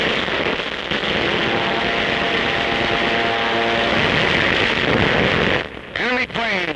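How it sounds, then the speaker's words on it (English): Enemy warplanes zoom in low during a wartime battle, a loud sustained engine roar that swells and then breaks into sharp whistling, falling tones near the end, from an old newsreel soundtrack. "Enemy planes zooming in low, men throw themselves flat on the deck"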